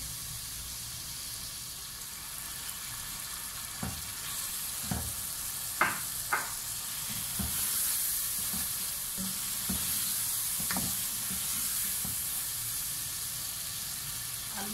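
Aloo matar curry masala frying in a pan produces a steady hissing sizzle, punctuated by repeated spatula knocks and scrapes at irregular intervals throughout.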